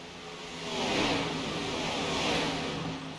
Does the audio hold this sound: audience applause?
no